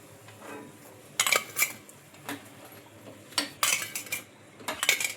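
Metal utensils clink and scrape against a pan and plate while freshly fried snacks are lifted out of oil, several short bursts of clatter separated by quiet moments, close by, no speech.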